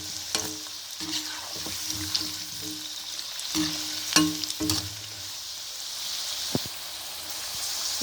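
A potato kebab sizzles in a pan right after being flipped, with a continuous crackling fry under intermittent scraping and clinks of a spatula stirring close by.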